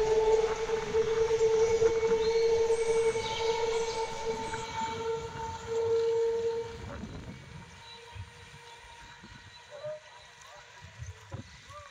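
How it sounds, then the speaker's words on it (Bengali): A train passes near Beliaghata Road station on its way toward Hasnabad, a loud steady rumble with a droning tone that holds for several seconds, then fades into quieter outdoor ambience. "এটি দেখুন কি সুন্দর লাগছে, ট্রেনটি হাসনাবাদের দিকে যাচ্ছে।"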